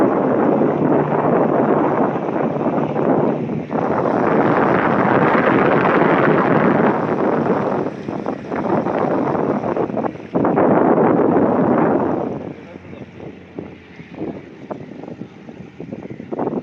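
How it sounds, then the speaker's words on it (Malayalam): Fishing boat ride near Chaliyam, Kerala, with strong wind buffeting the microphone in loud gusts over the engine and water, easing toward the end. "അപ്പോഴത്തേ നമ്മുടെ ബോട്ട് തിരിയുന്നുണ്ട്."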